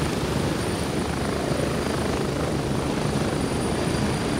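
A helicopter in a video game roars steadily throughout, a loud continuous rotor and engine drone with no talk over it.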